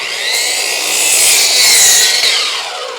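A saw cuts through a wooden board for a solar kiln build, a loud, close, continuous rasping rush that swells and eases over a few seconds.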